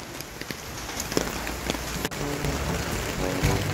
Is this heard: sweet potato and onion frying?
no